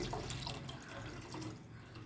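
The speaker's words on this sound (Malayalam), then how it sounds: "ഇതിലേക്ക് കുറച്ച് വെള്ളം ഒഴിക്കുകയാണ്" Water is poured into a pot of mango and egg curry, a soft, steady splashing trickle close by and fairly faint, with no talk.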